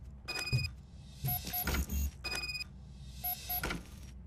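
A locked door in Robocop: Rogue City is tried several times, with repeated metallic rattles and clunks in short bursts, each carrying a faint high electronic beep, close and alone.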